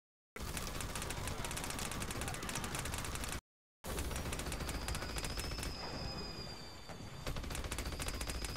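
Rapid automatic gunfire at minions in Battleborn, loud continuous bursts that cut out briefly and resume, dense rattling shots under game effects, no talking.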